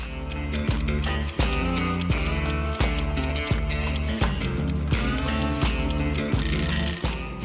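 A telephone rings insistently, a loud electronic ring pattern repeating in a steady rhythm with no voices.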